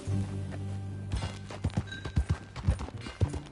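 A horse's hooves clip-clop at a walking pace while riding in Red Dead Redemption 2, with an uneven rhythm of soft thuds over an ambient game background, fairly close and moderately quiet.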